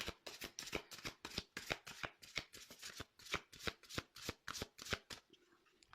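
Tarot cards shuffled by hand for a reading, a rapid run of crisp riffling slaps and flutters in a steady rhythm, close and clear with no talking.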